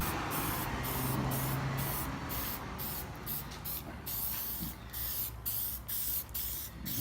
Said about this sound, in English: we spray just a little tack coat on this thing